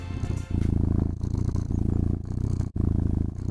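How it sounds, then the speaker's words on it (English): A cat purrs in a close, loud, steady rhythm of low rumbling pulses that breaks briefly at breaths, generated by an online purring-cat site. "sway to the rhythm of soothing feline noises"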